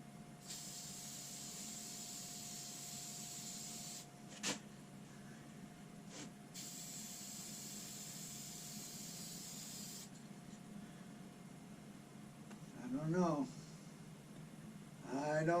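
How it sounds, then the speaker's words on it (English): Finish sprayed onto a slowly spinning turned bloodwood and yellowheart piece, two long steady hissing bursts close by with a faint mechanical hum beneath, then a voice talking. "I sprayed way too much on, and bloodwood bled into the yellow hearts."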